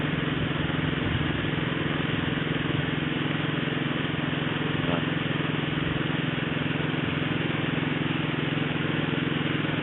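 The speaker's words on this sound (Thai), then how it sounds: "ตอนนี้ทำการสูบน้ำแล้วครับ" An engine-driven water pump drains a small pond, a steady mid-pitched engine drone running constantly and evenly without pause, fairly close and unbroken throughout.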